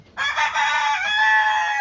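A rooster crows loudly and close by, one long drawn-out call holding steady for almost two seconds with no voices.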